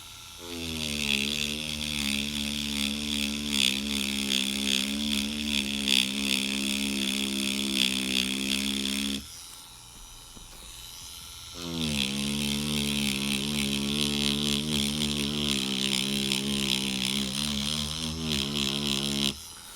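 An InkClaw Neon Blade rotary tattoo machine, fitted with a large 123 round magnum needle cartridge, hums with a steady close buzz. It stops for about two seconds midway, then starts up again and runs evenly.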